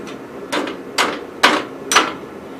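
A carpenter hammer pounds a nail in a part of a 1974 Gravely 812, with four sharp, evenly spaced strikes close by and no talk.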